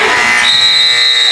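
End-of-quarter buzzer at a girls' high school basketball game in a gym: a loud, steady electronic tone that sounds through the second half over crowd noise.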